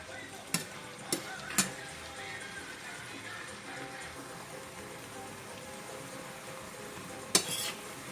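Fresh chickpeas cooking in a pan, giving a steady low sizzle throughout, with a few sharp clanks of a utensil against the pan and some talking.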